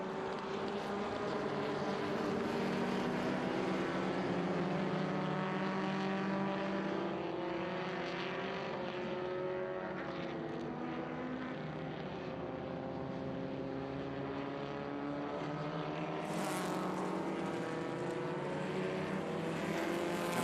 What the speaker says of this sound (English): It's the Alfa Romeo Giulia Spider.